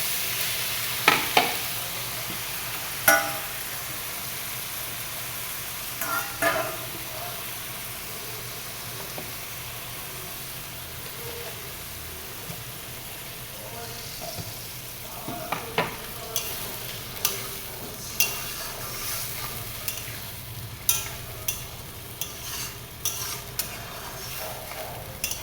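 Potatoes frying in a pan as a paste of ginger, cumin and whole garam masala (cinnamon, cardamom, cloves) is stirred in, giving a steady low sizzle broken by repeated sharp scrapes and clinks of a spoon against the pan.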